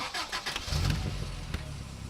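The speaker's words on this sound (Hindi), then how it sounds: "ए, गाड़ी स्टार्ट करो रे।" Car engine cranking and catching, a short starter whirr followed by the engine firing into a low rumbling idle, close and moderately loud, no speech.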